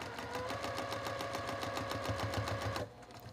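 A sewing machine hums at a fast, even rhythm as it stitches a quilt block seam up close, running steadily for about three seconds before stopping abruptly.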